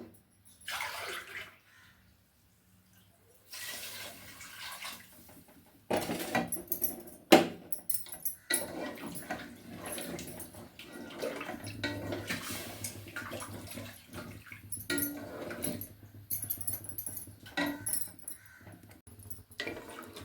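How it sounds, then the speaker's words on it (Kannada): Water poured from a glass into a pot of tomato rice cooking with dried red chillies, heard as several separate splashing, gurgling pours with short clinks and knocks between them, close by and fairly loud. "ಅಕ್ಕಿಗೆ ಎಷ್ಟು ನೀರು ಹಿಡಿಯುತ್ತೆ ಅಷ್ಟು ಹಾಕ್ಕೊಳ್ಳಿ ನನಗೆ ಇದು ಮೂರು ಗ್ಲಾಸ್ ಹಾಕಬೇಕು"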